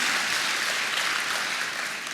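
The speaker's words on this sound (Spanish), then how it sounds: "Denle un aplauso al Rey bendito" A church congregation claps together in a sustained, even wash of applause that stays loud and steady from start to finish.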